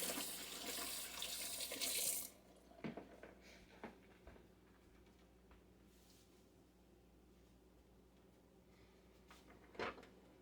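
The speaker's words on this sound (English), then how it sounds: "I'm washing my hands off because I'm handling raw meat" Running kitchen tap water splashes loudly over hands for about two seconds, then shuts off, followed by quiet sink-side clatter and a few soft knocks.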